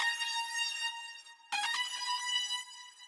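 A bright, buzzy racer synth lead preset from the X-Band plugin plays a repeating pattern of stacked harmonic tones, with a brief gap and a sharp re-entry partway through, loud and dry with no voices.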